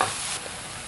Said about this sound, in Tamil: பொடி பொடியாக நறுக்கி வச்ச தக்காளி பழம் சேர்த்து வதக்கிட்டு